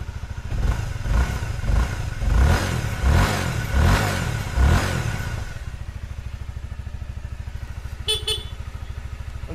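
A 250cc sport motorcycle engine revs in a few loud, rising bursts, then settles into a steady rapid idle. A short horn beep sounds near the end.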